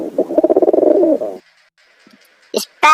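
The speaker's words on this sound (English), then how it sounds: "pigeon" A pigeon gives a close, rhythmic burst of soft throaty coos lasting about a second, followed by silence and then brief, sharper vocal sounds.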